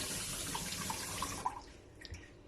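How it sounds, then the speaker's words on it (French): A newly installed kitchen faucet runs water in a steady, fairly close hiss that fills the first half, with a few small splashes and drips, then thins out as the flow seems to ease. "Donc, Do, il a fini d'installer le robinet de la cuisine."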